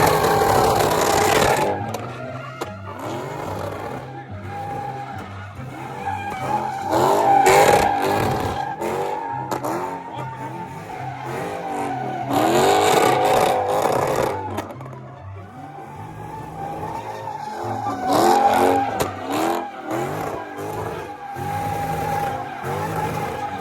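A Dodge Challenger, V6 twin turbo, revs and slides while drifting, engine rising and falling in loud surges with tire squeal over several long passes.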